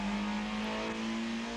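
A Fiat Uno race car engine in a 1994 Dunlop Fiat Uno Cup race revs loudly and steadily, its pitch rising slightly as it keeps running, close with no talking.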